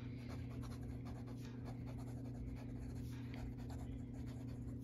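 A Montblanc Meisterstück 144R Bordeaux fountain pen writes fast on paper, giving a close, continuous dry scratching and rustling with quick stroke rhythms over a low steady hum, with no talking.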